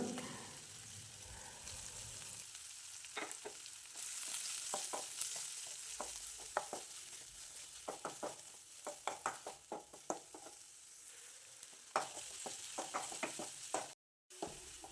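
Chopped green chillies, shallots and ginger fry in a pan for Onam sadya puli inji, with a steady close sizzle and repeated scraping stirs of a spoon against the pan, no talking.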